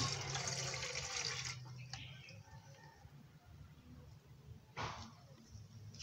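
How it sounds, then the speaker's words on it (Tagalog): Water pours in a rushing stream into a pot for boiling, stops, then a second brief splash of pouring follows, over low background noise. "Lagyan natin ng tubig guys"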